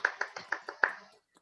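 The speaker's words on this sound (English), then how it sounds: "A big applause" Six crisp, evenly spaced hand claps sound at a cooking class celebrating the chefs, fairly quiet and close, then they stop abruptly, leaving near silence with one faint tap at the end.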